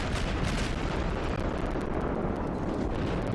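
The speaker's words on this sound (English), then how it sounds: "If the gunfire sounds crackly," Rapid, continuous naval gunfire from a German cruiser in World of Warships, a dense crackling roar of shots and blasts that fills the whole stretch without letting up, loud and close.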